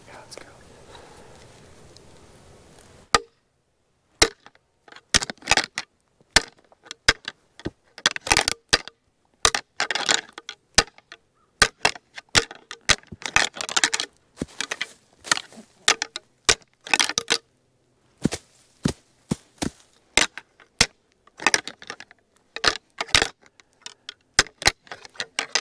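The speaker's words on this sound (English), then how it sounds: "then we'll hit the antlers, call farther down into this thick bedding" Antlers are rattled together to call deer into thick bedding cover during October bowhunting on public land, producing rapid, irregular clacks and cracking clatters in bursts with short pauses, loud and close.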